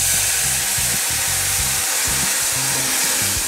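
Loud, continuous sizzling and hissing fills the clip as water with tomato sauce is poured into a hot pan of Mexican rice, with low rhythmic thumps underneath.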